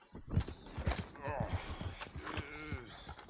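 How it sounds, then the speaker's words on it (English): A horse in a video game sets off several rhythmic hoof clip-clops and a whinny, close, under someone talking and a creaking cart. "God damn drunk horse."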